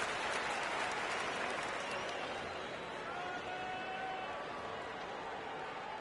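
Steady crowd applause and cheering from a basketball video game crowd fills the whole stretch, a dense wash of clapping with faint voices mixed in.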